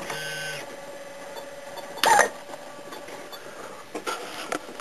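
A battery-powered ignition system fires a rocket test tube, giving one short, loud burst of hissing ignition that stands out over a low background hum, followed by a few faint crackles.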